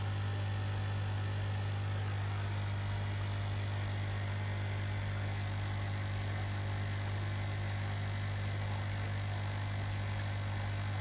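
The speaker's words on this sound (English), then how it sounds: "I've got the Nexus pump running at 1600 RPM and it's running at 45 watts." Nexus pond pump running at 1600 RPM in a koi garden setup, giving off a steady, low electrical hum with faint hiss that stays level and unchanging, with no voices.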